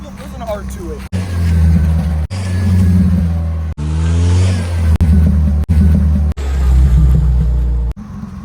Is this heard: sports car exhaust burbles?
yes